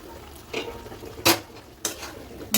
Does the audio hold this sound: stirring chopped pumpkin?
yes